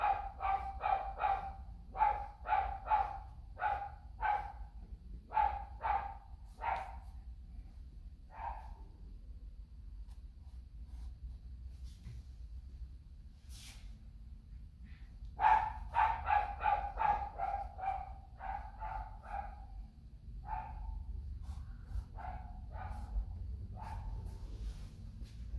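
A dog barks in two rapid volleys of sharp, repeated woofs with pauses between them, moderately distant indoors over a low background hum.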